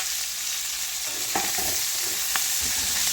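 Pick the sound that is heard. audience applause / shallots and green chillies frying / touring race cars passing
shallots and green chillies frying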